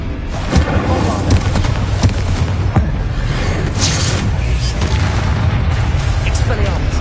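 Booming spell blasts from the Bombarda exploding charm in Hogwarts Legacy on PS5, a dense, loud barrage of thuds and bursts filling the whole stretch with constant battle noise and shouted voices mixed in.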